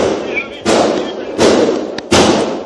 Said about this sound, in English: Horrific sounds of gunfire ring through Nashville's Covenant Elementary School.